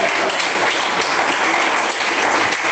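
A church congregation breaks into steady, dense applause that fills the room evenly, a continuous wash of many hands clapping without a break.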